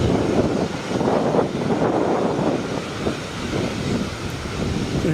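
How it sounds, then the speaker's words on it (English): A Cessna 560 Citation Ultra business jet at Austin-Bergstrom airport gives a fairly loud, sustained rumbling roar that wavers slightly as it passes, with no voices. "Cessna 560 Citation Ultra"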